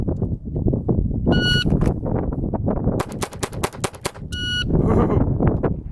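A Glock 44 pistol fires a rapid string of sharp, loud shots in quick succession, bracketed by electronic timer beeps before and after, outdoors with no talking.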